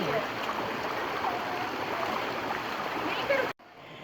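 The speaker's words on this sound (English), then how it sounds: "there's just pure nature and water" Steady broadband rush of river water flowing at the Gizlikent waterfall near Fethiye, a continuous close wash that cuts off abruptly near the end.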